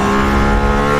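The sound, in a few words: Mercedes-AMG ONE hypercar with Formula One engine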